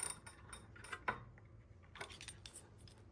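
An 8mm Allen key works loose the long threaded crank arm bolt on a Zwift Ride frame, giving scattered metallic clicks and ratcheting ticks with one sharper clank, close and quiet, and no talking.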